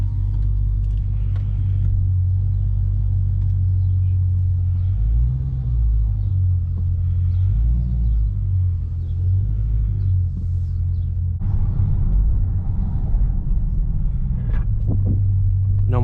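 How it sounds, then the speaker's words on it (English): A Dodge Charger 392 heard from inside while cruising on the road after a brake job, with a deep, steady engine and road rumble that swells slightly as the car accelerates at times. "let's go for a drive with these new brakes"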